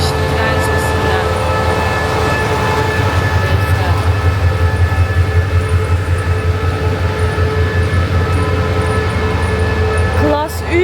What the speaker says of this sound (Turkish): Başım şişti tren sesinden.